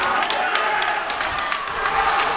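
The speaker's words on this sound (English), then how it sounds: "Crowd really got excited about that drag back to the middle" Crowd cheering and clapping in a school gym during a high school boys wrestling match, a loud, steady burst of applause and shouts that fills the whole moment.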